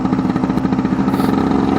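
A new two-stroke motorcycle engine being run in on gravel roads in 99-degree heat, buzzing loud and close with a steady, rapid rhythm throughout a short burst.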